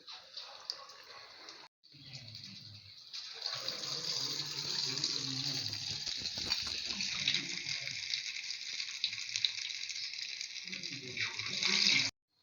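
Sliced plantain dipped in batter fries in hot oil for bajji, giving a steady, bright sizzle that fades briefly near the start before surging back and continuing close up.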